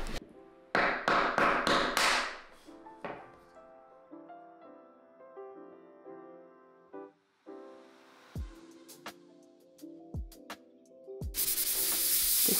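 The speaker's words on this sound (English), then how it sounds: "We're just sanding it off. Because the glue obviously left some marks." Sanding glue marks off a wardrobe during a hallway makeover of an IKEA PAX unit, with bursts of rubbing and scraping, light taps and thumps, and a sustained hiss of abrasion near the end, close and moderately loud.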